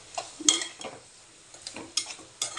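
Chana dal frying with eggplant in a pan, a spoon scraping and clattering against the metal in a few sharp strokes over a low sizzle, close by, with no talking.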